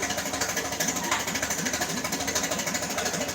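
An Oliver tractor's Hercules engine idles low and steady at a show, a close, even chugging knock with a fast regular pulse and no talk over it.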